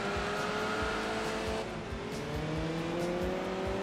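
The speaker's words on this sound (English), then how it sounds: "Oh, that sounds so good, the L series engine." In the racing video game Enthusia Professional Racing, a race car with an upgraded L series engine revs hard and steadily, its rising and falling engine note loud and continuous, with faint tire squeal and no speech.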